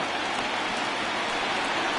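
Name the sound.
rain in the video game MLB The Show 20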